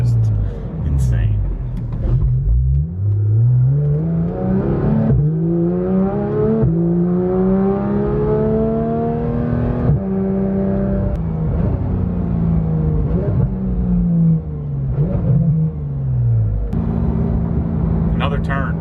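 A car engine revs and shifts through gears while driving on winding, slightly wet roads, its loud droning tone repeatedly climbing and dropping close to the microphone throughout.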